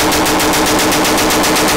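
SCAR-H rifle firing in a rapid, dense burst of loud, close shots that blur into one another for under two seconds.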